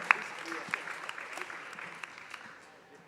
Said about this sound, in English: Another big round of applause for